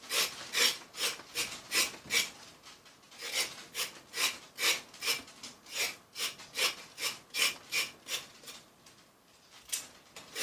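The back of a knife scrapes carrots for broth in a home kitchen, a steady series of short raspy strokes repeating at a brisk rhythm, close and moderately loud with no talk.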